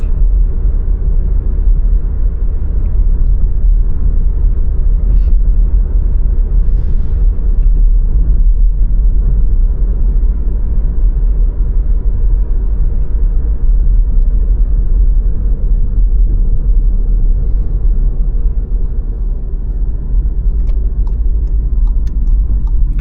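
A Skoda Octavia with a Volkswagen 1.4 TSI 150-horsepower engine drives through light city traffic, heard from inside as a steady, loud low engine and road rumble that continues without talk, with faint ticking.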